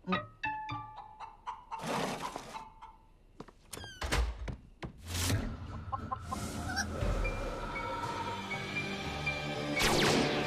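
A hen clucking in short repeated bursts, close and fairly loud, interleaved with thumps and knocks like a door or objects being handled in a cartoon scene, with a few sharp bright accents.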